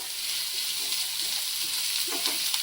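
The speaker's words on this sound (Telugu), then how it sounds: "ఇవన్నీ ఆనియన్స్ వేసేసి చక్కగా" Chopped onions hit hot oil in a pan for an egg and drumstick curry and crackle with a close, steady sizzle, with a few small stirring clicks and no speech.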